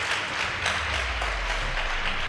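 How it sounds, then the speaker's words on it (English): An audience at a school debate between Friends School Keveye girls and Kakamega High applauds, a steady moderate wash of clapping for a couple of seconds. "Please give them a round of applause."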